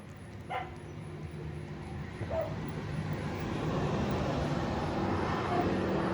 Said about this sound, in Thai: เย่ดำเห่าอะไรไม่รู้